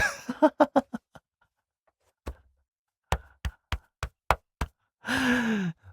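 A series of hollow thumps from a hand tapping on a chest, a quick run of taps, a pause, then another steady run, ending in a long breathy exhale.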